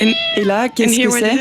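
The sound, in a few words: domestic cat meowing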